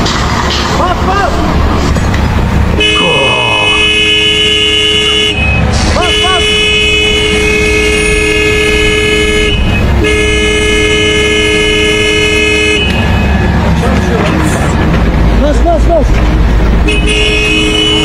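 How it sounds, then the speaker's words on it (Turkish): A car horn honks repeatedly in long blasts with short gaps, loud and close, while people talk over the engine noise. "Bak kornaya bas kornaya."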